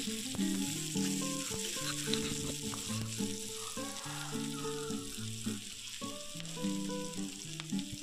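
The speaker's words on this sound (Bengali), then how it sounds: "দিয়ে আবারও কিছু সময় ভেজে নেব পেঁয়াজটাকে ও পাঁচফোড়নটাকে" Onion and panch phoron spices frying in a pan for a tomato and bata fish curry, a continuous soft sizzle with occasional stirring under faint background music.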